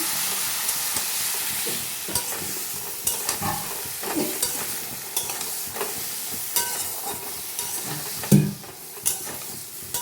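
A spice masala with turmeric, salt and Kashmiri red chilli powder, loosened with spice water, is stir-fried in a pan. It gives a continuous bright hiss and sizzle, and the spatula scrapes and knocks at irregular moments, close up, with no voices.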